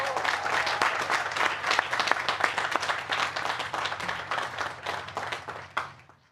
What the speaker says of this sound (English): Let's give a warm, well-deserved round of applause for all the family and friends that supported our graduates to their journey.